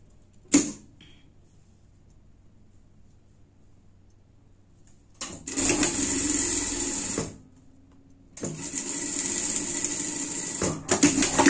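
A sewing machine stitches fabric for a themed party dress in two sustained close bursts of fast mechanical whirring, separated by quiet pauses and preceded by a single click.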